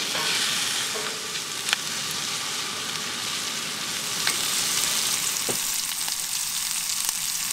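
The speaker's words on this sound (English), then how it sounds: "There's nothing like bacon and onion cooking together. All right, let's give it a stir." Bacon and onion fry together in a camp pan outdoors, a close, steady crackling sizzle punctuated by occasional spatula scrapes and clanks as they are stirred, with no talking.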